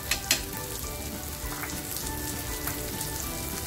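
Turmeric and dry homemade spice powder hiss and sizzle in hot oil for Afghani-style egg masala. The frying is steady and close, with a few crisp pops near the start.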